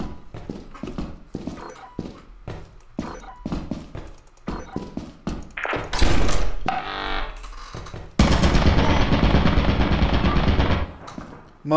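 Automated turret in Lethal Company opening fire: a run of sharp, evenly spaced clacking steps leads into loud, sustained bursts of rapid machine-gun fire that cut off and resume, close and overpowering.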